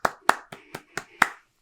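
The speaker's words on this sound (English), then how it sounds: "giving a round of applause to the SMWS for their fantastic whiskey" Six sharp hand claps ring out in an irregular rhythm, close and fairly loud, as a brief round of applause at the end of a whisky tasting, with no voices over them.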